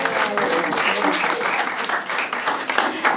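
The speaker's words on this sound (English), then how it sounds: "We applaud Brittany." People at a school board meeting applaud their departing executive director, a continuous crackling ripple of hand claps from a modest crowd, with someone speaking over it.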